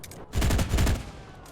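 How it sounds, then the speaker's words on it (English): A rapid burst of automatic gunfire empties a magazine in the video game Enlisted, a dense rattle lasting about a second that swells and then fades into background noise. "I can't reload to high explosive until I shoot this entire magazine"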